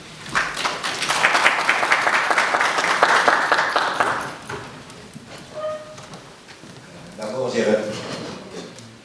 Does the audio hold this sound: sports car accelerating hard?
no